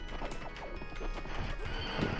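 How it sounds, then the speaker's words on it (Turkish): A horse neighs and whinnies amid clip-clopping hooves and clashing game sounds in the Knights of the Round arcade game, with several whinny bursts running steadily over busy background music. "Bak bir tane daha at var, istiyorsan ona bin."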